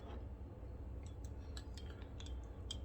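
A spoon clinks lightly against the inside of a cup while stirring caramel apple coffee, soft scattered taps over a quiet low background hum, close and faint.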